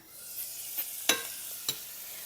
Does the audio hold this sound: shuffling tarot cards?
no